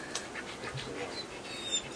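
A dog pants in quick breathy bursts and lets out thin whimpers at close range, with faint background noise throughout.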